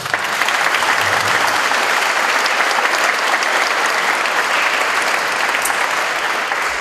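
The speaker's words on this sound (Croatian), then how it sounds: "Može aplauz jedan za kvartet." An audience at a live concert in Zagreb claps for a string quartet, a dense, steady roar of applause sustained for several seconds, loud and close.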